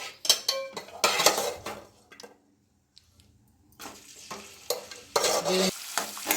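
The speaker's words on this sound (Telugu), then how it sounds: "చేప ముక్కలను వేయించుకుందాము" Dried fish pieces fry with turmeric in a pan, bursts of sizzling and stirring scrapes broken by a short quiet pause, then loud sizzling resumes with clinks of a utensil against the pan.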